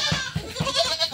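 Goats bleat on a farm in Sariaya, Quezon, with several short, close, wavering calls following one another in quick succession, sounding loud and with no talk over them.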